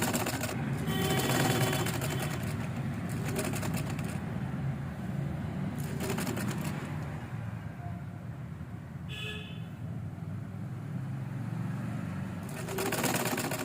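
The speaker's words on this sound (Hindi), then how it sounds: "तो इस तरह से हमें इसकी सिलाई लगानी है। नीचे पेटीकोट को रखना है और ऊपर इसको ऐसे रख करके और सील देना है।" A sewing machine stitches a saree belt onto a petticoat, running in steady bursts of close, continuous whirring separated by short pauses.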